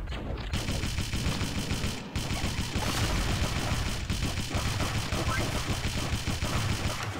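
Gunfire from the mobile video game Pixel Gun, with rapid automatic bursts firing nearly nonstop through a whole magazine, loud and dense, briefly pausing once.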